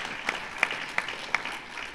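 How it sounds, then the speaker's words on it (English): Short burst of audience applause at an event on re-entry after prison, a thin scattering of claps with a few distinct sharp hits, fading quickly. "So I think we should give that a round of applause."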